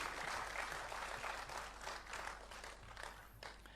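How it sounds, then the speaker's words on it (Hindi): Audience clapping in a hall at a public address event, a dense continuous burst of applause fairly far off and faint, steady then tapering slightly, no speech over it. "एक बार जोरदार तालियां दोनों हाथों से अपने लिए बजानी आपको जरूर बजनी चाहिए"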